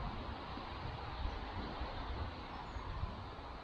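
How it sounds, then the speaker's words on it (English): Steady traffic from a nearby main road makes a continuous, even rumble and hiss in the background of a woodland wild camp, with no distinct passing vehicles standing out. "You probably can hear the traffic in the background."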